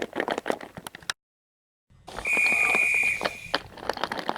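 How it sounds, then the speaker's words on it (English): A train conductor's whistle sounds once, a clear, steady, high-pitched tone lasting about a second over background noise, after a short silence and between stretches of other sound. "As soon as the conductor's whistle blew, Mark then steamed away."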